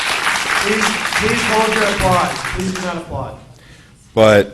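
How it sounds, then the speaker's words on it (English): Applause from the audience at a town Representative Town Meeting, heard as a rough wash of clapping beneath someone speaking at a microphone, dying away partway through before a short spoken word. "Please hold your applause. Please do not applaud."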